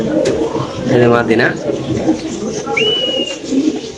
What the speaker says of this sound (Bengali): কবুতর দেখেন ভাই